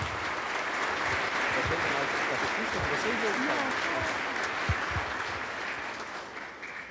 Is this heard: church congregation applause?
yes